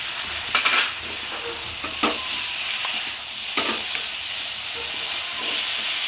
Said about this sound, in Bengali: আমি আবার একটু খুলে নাড়াচাড়া করবো এবার আমি টমেটোটা দিয়ে দেবো